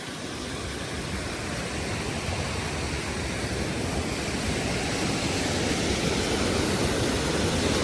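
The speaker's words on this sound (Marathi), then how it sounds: "असला हा प्रचंड प्रवाह पाण्याचा." Powerful torrent of water surging during heavy monsoon rain near the sea in Ratnagiri, a steady, loud, broadband roar that stays constant and close throughout with no voices.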